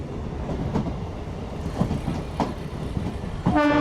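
Bitragunta to Chennai Central MEMU express at Tada railway station: a loud, near rumble of rolling carriages with periodic clunks from the wheels, then a horn blast near the end.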